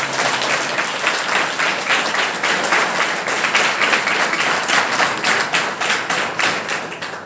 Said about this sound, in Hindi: उन सब के लिए आप ताली बजाकर करें